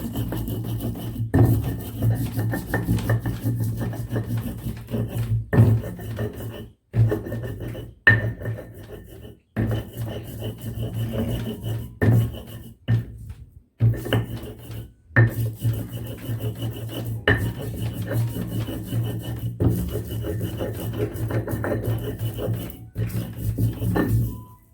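Rendang spices ground finely by hand make a continuous rasping, rubbing scrape with a low steady hum beneath, broken by a few brief pauses and occasional knocks.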